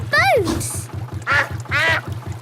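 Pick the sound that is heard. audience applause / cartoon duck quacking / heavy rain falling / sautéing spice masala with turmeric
cartoon duck quacking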